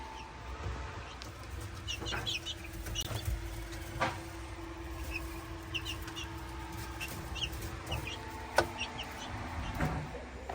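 Chickens cluck and chatter in short bursts over a busy background of outdoor noise and faint mechanical hum.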